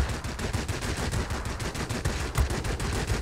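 Hispano cannons fire in rapid, rhythmic bursts during World of Warplanes aerial combat, a loud continuous stream of heavy thuds at a fast even cadence.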